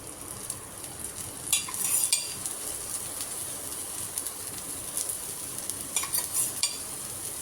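Oil is poured around a chickpea adai cooking in a hot pan, bringing short crackling bursts of sizzle over a low steady frying hiss, with faint bird cooing in the background.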